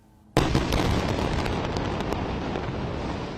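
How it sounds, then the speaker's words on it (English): A sudden loud explosion bursts at night during the Israel-Hamas war, then rumbles on as a dense, roaring wash of sound with scattered crackles and pops. "Explosions rumbled through the night after Israel declared war on Hamas on Saturday."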